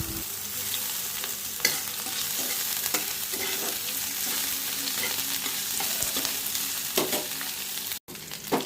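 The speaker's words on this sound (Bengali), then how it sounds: "এলাচ আর তেজপাতাটা একটু ভেজে নিতে হবে" Cardamom, bay leaf, two chillies and ginger fry in a pan for a vegetarian shyama-grain pilaf, giving a steady close sizzle with occasional scraping stirs and clinks throughout.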